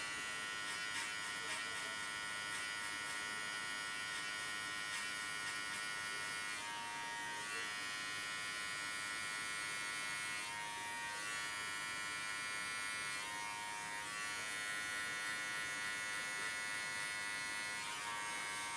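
Electric hair clippers fitted with a 0.5 or open guard cutting hair on a pompadour, a continuous high buzzing drone with brief dips as the blades move through the hair, close and alone without speech.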